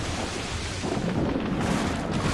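Ship cannons firing in the naval combat of Assassin's Creed Rogue, a dense, continuous low rumble of booming broadside fire that swells slightly and stays loud for the whole stretch, with no voices.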